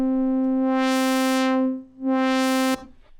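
Sustained Xfer Serum saw wave with a low-pass filter enabled, a buzzy held tone whose brightness sweeps closed and open again before the note stops abruptly, alone with no talk.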